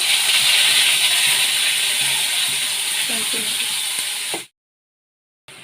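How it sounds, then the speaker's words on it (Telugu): Steady sizzling hiss of mustard seeds crackling in hot oil, with faint pops and clinks, then it cuts abruptly to silence near the end. "ఆవాలు ఇలా చిటపటను బాగా వేయక ముందుగా రెడీ చేసి పెట్టుకున్న ఎర్రకారాన్ని తాలింపులో వేసేస్తున్నాను."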